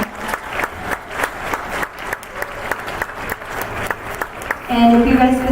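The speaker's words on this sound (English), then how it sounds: "Give them a round of applause for helping out tonight." A small crowd claps steadily in a fairly even rhythm at a band concert, then the applause gives way to a voice near the end.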